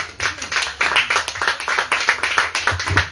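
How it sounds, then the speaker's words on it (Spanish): A church congregation clapping together at a Spanish-language worship service, brisk and rhythmic with the claps pulsing in a steady, fairly close beat. "Un aplauso fuerte para nuestro Señor."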